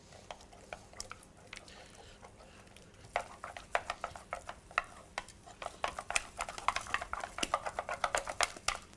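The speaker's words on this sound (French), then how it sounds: "J'incorpore mon deuxième œuf." Egg is mixed into choux pastry dough with a series of sticky slaps and scrapes. The sounds are quiet and irregular at first, then grow denser and more rhythmic.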